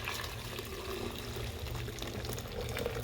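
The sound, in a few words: boiling water poured from a kettle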